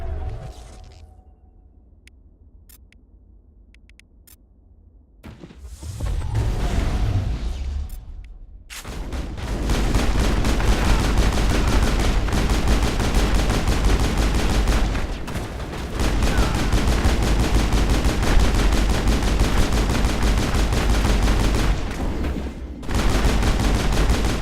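Firefight in the Mass Effect 1 video game: after a few quiet seconds and brief shots, loud sustained gunfire and bursts run almost without pause, with short gaps, close and dense.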